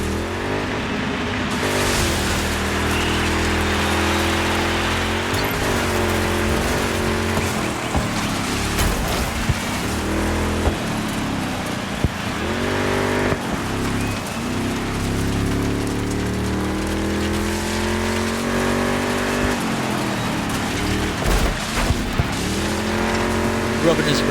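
Hearse racing in the DIRT 5 video game, with a continuous loud engine roar that rises and falls through gear changes, plus rain-like surface noise and tire sounds, under a commentator's voice.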